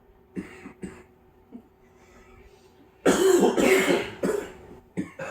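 A few quiet coughs and throat clears, followed by a louder burst of several harsh coughs close to the microphone.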